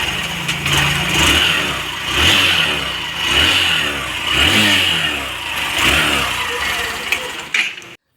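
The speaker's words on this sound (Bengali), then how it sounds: "এখন 10 থেকে 15 সেকেন্ড বাইকটা স্টার্ট দিয়ে রাখতে হবে।" A BS6 motorcycle engine keeps running for several seconds with repeated rising and falling revs over a steady idle, loud and close, then cuts off abruptly near the end.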